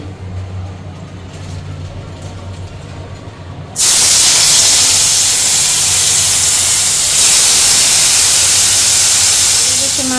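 Shrimp hit hot oil in a pan with a sudden loud, steady sizzling hiss that continues without a break, after a quieter stretch of kitchen background.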